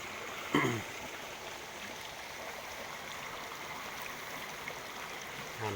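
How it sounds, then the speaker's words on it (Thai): A waterfall flows continuously at a moderate distance, a soft even hiss of rushing water, with a brief throat-clearing sound early on. "เสียงน้ำตกกับบึ้มบึ้มเลย"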